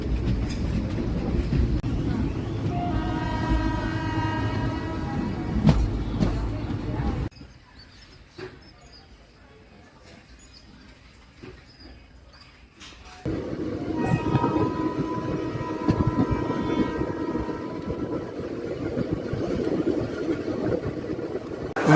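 A passenger train pulls into Guntur Junction, wheels rumbling and a sustained horn blaring, then a stretch of near quiet before the rumble and a second long horn blast return.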